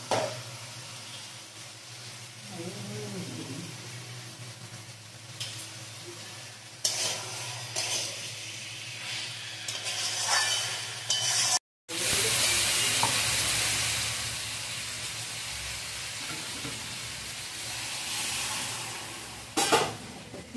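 Fried potatoes added to chicken kosha in a pan, a faint continuous sizzle with intermittent stirring and scraping, briefly cutting out midway before a louder hissing stretch resumes.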